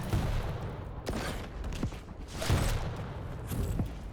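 Weapon fire in a Quake Champions 2v2 team deathmatch, with rapid, overlapping shots and explosive bursts that fill the whole stretch at a fairly steady, busy level.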